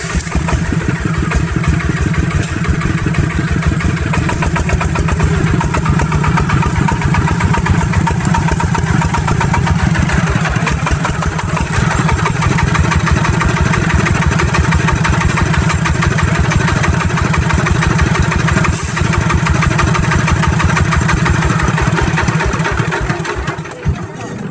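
Agricultural truck engine running while driving through a bushcraft logging site, a loud continuous chugging, rattling engine drone close by throughout, fading slightly at the end.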